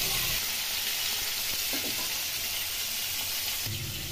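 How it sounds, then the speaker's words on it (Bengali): Fish pieces fry in hot oil with black cumin seeds, giving a loud, constant crackling sizzle up close, with faint stirring knocks and a slight shift in tone near the end. "কালো জিরে ভেজে নিয়ে মাছগুলো দিয়ে দিলাম। মাছগুলো একটু এপিট ওপিট করে ভেজে নেব।"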